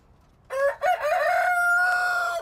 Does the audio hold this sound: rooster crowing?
yes